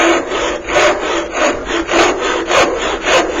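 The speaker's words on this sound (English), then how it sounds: "now what I can do is I can just start sawing normal." Rhythmic strokes of a hand saw cutting through wood, close and loud, about two strokes per second with a rasping push-pull sound.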